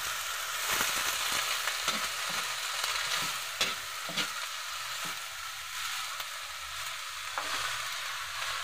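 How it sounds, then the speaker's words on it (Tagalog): Ingredients sautéing in a frying pan, a constant bright sizzle broken by repeated scraping stirs of a utensil, close and steady with no talking. "Igisa lang natin ito."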